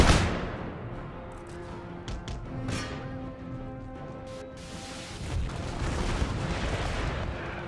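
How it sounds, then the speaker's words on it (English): Rocket fire in an Empire: Total War battle: an initial loud whoosh and booms, then a dense rumbling barrage with scattered bursts that swells again toward the end, with no talk. "Rocket fire, let's get them to stop."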